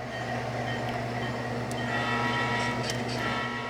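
An HO scale model train with BN F-unit locomotives runs steadily around a model railroad layout, producing a continuous close whirring hum with faint rail clicks and no speech.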